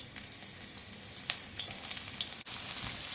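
Garlic frying in hot oil gives off a steady, fairly quiet sizzle with a few faint clicks of stirring, continuous throughout and no talking.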